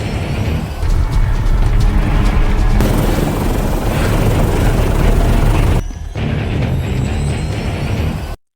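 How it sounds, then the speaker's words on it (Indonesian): A helicopter roars throughout a dramatic film scene on a secret island, loud and close with a dense continuous rotor wash and a brief dip near the end. "Jack menemukan si Break yang akan melarikan diri memakai helikopternya"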